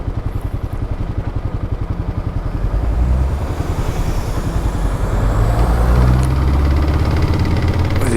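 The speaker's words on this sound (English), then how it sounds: "His car's a bit loaded and he needs to go over these speed humps at an angle." A loaded car eases over speed humps on a road, its engine throbbing in a steady rumbling pulse that swells louder partway through, with no talking.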